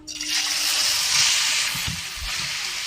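Thin potato sticks dropped into hot oil for wedding-style crispy fried potatoes burst into a loud, close hiss of bubbling oil that holds steady, with a few low thuds underneath.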